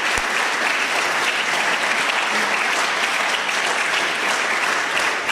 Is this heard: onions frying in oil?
no